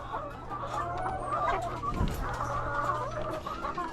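Hens clucking in a small backyard flock, a quiet, continuous chatter of soft clucks close by.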